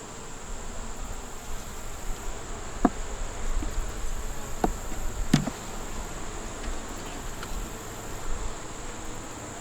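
A small honeybee swarm building up with eggs and brood hums in a soft, continuous buzz, with a few individual bees droning past close by in brief louder flybys and a faint high steady tone running throughout.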